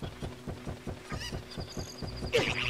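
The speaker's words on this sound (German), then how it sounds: "Warum ist da ein Huhn im Wasser?" Short clucking and squawking bursts from a chicken in the water rise near the end, over a steady rhythmic thumping background of game music in a Zelda: Ocarina of Time hack.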